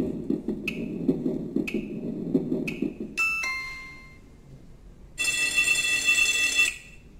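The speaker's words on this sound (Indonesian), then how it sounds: "Nah, ini weker." Yamaha PSR E273 keyboard plays its alarm clock sound effect as a few evenly spaced electronic dings, followed by a sustained bright ringing burst that stops abruptly, heard alone and close.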